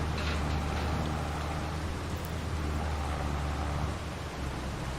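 Rain in the video game Farming Simulator 22 while mulching: a steady, dense hiss of rainfall with a low rumble underneath, continuous throughout and with no voices.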